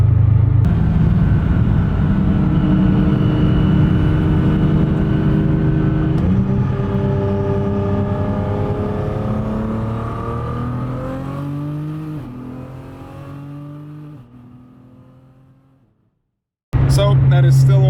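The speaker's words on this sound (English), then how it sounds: "Might do a little pull for you guys in the GTR just to make sure she's running good" Nissan GT-R with over 1000 horsepower on low boost accelerating hard on a public road, loud engine climbing through rising harmonics across several short-shifted gear changes, then cutting off abruptly near the end.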